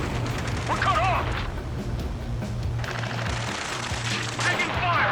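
Bursts of gunfire rattle through a combat mission in the Ace Combat 7 video game, with rapid reports and booms alongside shouted radio chatter and a steady low tone.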